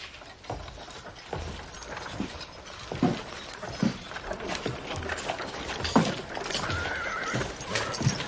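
A horse whinnies while hooves clop unevenly on hard ground, close by, with occasional snorts and shuffles.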